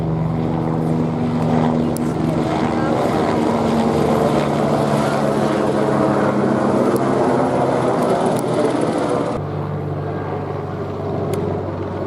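A white plane flies overhead, heard as a steady, loud broadband engine roar with low propeller-like drone that holds for about nine seconds before dropping to a quieter rumble, no talk over it.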